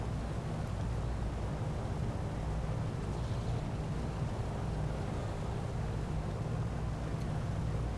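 A damaged engine on the Soviet MBR-2 flying boat bomber in War Thunder gives a steady, dull, noisy drone with wind-like rush, unbroken and even throughout.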